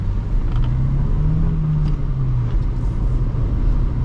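A 2006 Honda Accord SE with a five-speed manual pulls hard on the road, its engine a steady loud drone with a rising tone under continuous road and cabin rumble.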